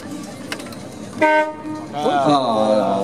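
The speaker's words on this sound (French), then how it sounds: "il y a une belle sonorité de klaxon, au moins on l'entend" A Ford Taunus 20M's compressor horn blares loudly in two honks, the second longer and brassier, with people talking in the background.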